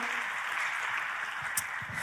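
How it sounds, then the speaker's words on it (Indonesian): Church congregation applauding for their pastor, a soft, steady patter of clapping heard from some distance, quiet throughout. "Buat gembala yang luar biasa ini boleh beri tepuk tangan yang paling meriah."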